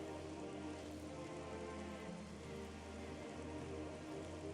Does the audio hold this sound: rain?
yes